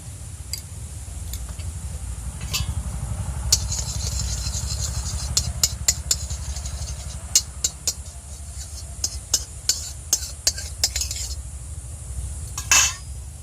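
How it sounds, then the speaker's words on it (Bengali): A metal karai is set on a lit stove and shifted about, giving sharp clinks, rattles and scrapes over a low steady burner rumble, close and distinct, with a louder clatter near the end. "উনুনটা জ্বেলে নিয়েছি, কড়াটা বসিয়ে দেব।"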